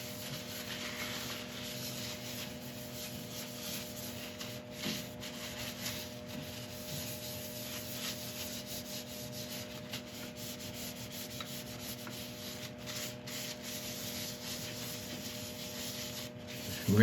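Howard's Feed and Wax is rubbed into a spinning apple wood turning on a lathe, giving a steady close friction hiss over the constant hum of the running motor, with almost no change across the whole stretch.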